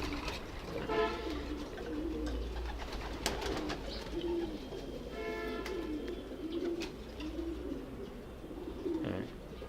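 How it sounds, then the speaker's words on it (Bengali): Pigeons coo softly in a loft, their low repeated calls coming over a steady background murmur, with a few faint chirps mixed in. "আরেকটা কবুতর দেখাই,"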